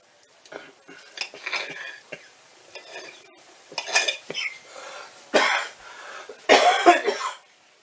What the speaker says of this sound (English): Cough in my arm.